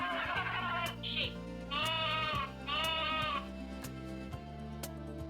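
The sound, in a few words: sheep bleating from toy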